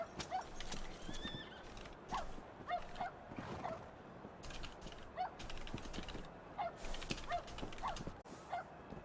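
A horse in a video game whinnies several times while hooves clip-clop steadily beneath, the neighs standing out clearly at intervals.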